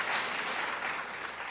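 Steady applause from a congressional candidate forum audience, a dense wash of clapping that holds at an even level throughout without any talking.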